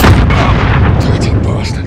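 A C4 charge detonates in Call of Duty: Modern Warfare (2019), a loud, close blast whose heavy rumbling boom fills the moment, with a game voice faintly mixed in.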